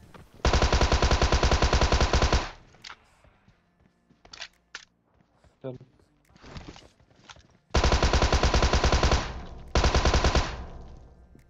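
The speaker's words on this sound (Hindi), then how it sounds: "यहाँ उतरते ही मुझे छत पे टोमी गन मिल जाती है और दो बंदे नॉक भी कर चुका हूँ" Tommy gun fire in PUBG Mobile on a rooftop: two long, loud sustained automatic bursts open and close the clip, with scattered shorter shots and footsteps in the quieter middle stretch.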